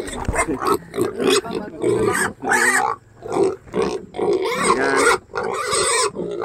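Pigs grunt and squeal repeatedly and loudly at close range, a dense, continuous chorus of animal noise with no break.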